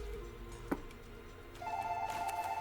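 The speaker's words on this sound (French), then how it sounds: "Le téléphone sonne, je ne réponds pas" A telephone rings in a room during a Magic: The Gathering Arena match, starting partway through as a steady, moderately faint trilling tone over quiet background hum.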